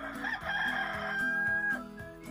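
A rooster crows a long, loud cock-a-doodle-doo with a sustained, rising call, close and alone with no talk.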